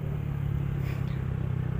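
A tanker truck passing on a road, a steady loud low engine rumble and drone that holds throughout without letting up, heard close by from a motorcycle.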